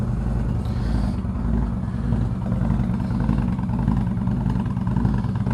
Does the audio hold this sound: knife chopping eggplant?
no